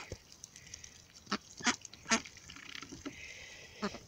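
Rouen ducks in an enclosure give scattered quacks, a few sharp calls and softer chatter in irregular bursts, at moderate distance over a quiet background.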